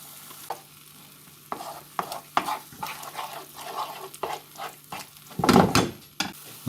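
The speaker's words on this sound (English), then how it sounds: "We'll give that a mix and then we'll let it simmer for a while." Chilli sauce with tomato puree being stirred in a pan, with scraping and a soft simmering sizzle in irregular strokes and a louder burst of stirring near the end, close up with no talk.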